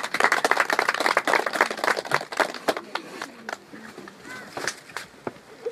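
A church congregation breaks into applause for the Lord, a dense patter of many hands clapping loudly at first, then thinning and fading into scattered claps over several seconds.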